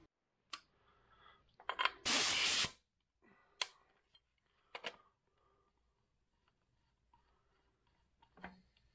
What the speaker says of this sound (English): Let me get another cylinder leak down test with the new head gasket.